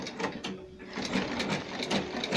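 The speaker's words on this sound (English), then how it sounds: "you just place it and then you start sewing." A sewing machine stitches a pleated standing peplum, a steady rapid mechanical whir with faint rhythmic ticking throughout, close and moderately loud with no voices.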